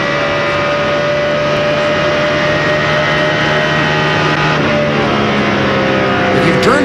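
Race car engines scream at high RPM during the 2002 Pennsylvania 500 NASCAR race, a loud, continuous, droning roar with layered engine tones from the pack and a slight swell near the end.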